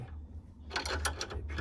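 A wrench tightening the nut on a stabilizer bar link of a Renault Clio 4, a quick run of close metallic ratcheting clicks over a low hum.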